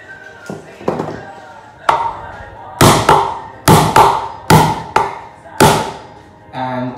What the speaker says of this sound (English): So this is when we're using the hammer before we start this.